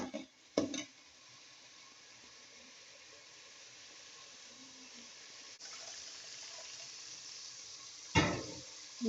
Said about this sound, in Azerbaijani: Bunları biraz qovuruq